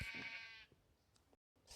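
A Minecraft sheep gives a single short, wavering bleat, fairly clear and close, followed by near quiet and a brief gap.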